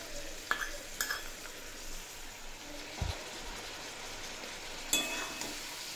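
Vegetables coated in ground mustard and poppy seed paste are stirred in a pan for Bengali dudh shukto, giving soft scraping and a few sharp utensil clinks over a low, steady background.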